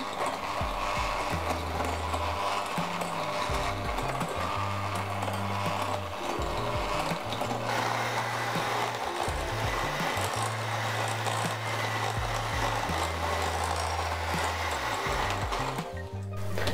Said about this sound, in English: And then you just want to beat the sugar with the butter until soft